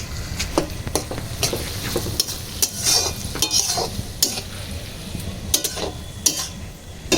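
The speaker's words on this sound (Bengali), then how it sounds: "এবার এটাকে পেঁয়াজটাকে একটু কষিয়ে নিই।" Onions stirred and frying in a pan for a spicy Bengali-style duck curry cooked village-style outdoors, with steady close sizzling and repeated scraping strokes of a spoon against the pan.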